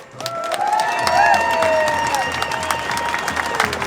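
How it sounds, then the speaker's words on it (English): Applause and cheering from a rally crowd of volunteers, firefighters and emergency service workers, a sustained loud burst of clapping with whistles and shouts running steadily throughout. "Big round of applause for each and every one of you."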